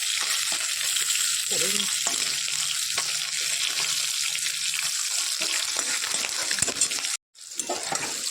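Bhola fish frying in hot oil in a pan, a loud, dense, continuous sizzle close up, broken by one brief dropout, with a few soft words spoken over it.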